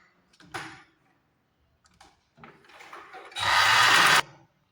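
A sewing machine stitches the lining and main cloth of a long frock together, starting with a few soft taps and handling noises before a steady, close run of stitching lasting about a second.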